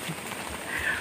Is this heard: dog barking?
no